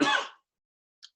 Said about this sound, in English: Sorry if I keep coughing during this.